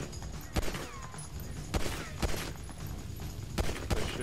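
Bursts of gunfire in Grand Theft Auto V, sharp separated shots spread across a busy game soundscape, fairly loud and repeated at irregular intervals.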